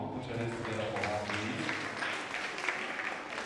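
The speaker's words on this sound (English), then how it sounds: "Mrs. Oguni Rong, put your hands together for her" An audience at a school literacy-week spelling bee applauds a judge, a steady wash of clapping from a crowd running the whole time with a voice faintly over it.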